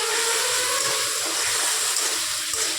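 A splash of water hitting spices frying in hot oil for a vegetarian cashew and potato poppy-seed dish, giving a loud, steady hiss and sputter that holds for the whole moment.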